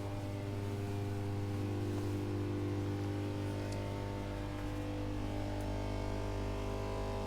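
A steady, droning machinery hum, likely a generator, runs aboard a 1975 classic superyacht fitted with twin diesels. Its even tonal whine and low rumble carry unchanged throughout, with no voices over it.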